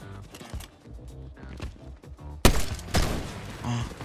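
Sniper rifle fire in a ranked solo video game match: sharp, loud cracks punch through a busy mix of game effects, two standing out close together near the end.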